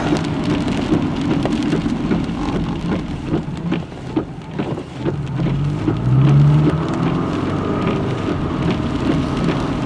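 Heavy rain during a thunderstorm in Sheridan, Wyoming, a loud continuous hiss of downpour with a low rumble and some passing traffic noise underneath, with no talking.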